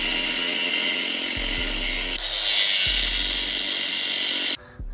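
A power tool cuts through the steering column shaft of a 1999–2002 Chevrolet Silverado, a loud steady buzzing whine held for several seconds that drops in pitch mid-cut and stops abruptly near the end.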